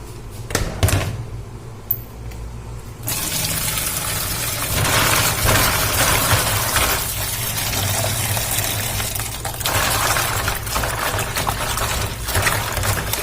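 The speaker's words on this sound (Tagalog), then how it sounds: "Hugasan ko muna to dilis." Anchovies are rinsed under running water, a steady rushing stream with shifting splashy texture, starting quieter with a few clicks before the flow swells and continues without talk.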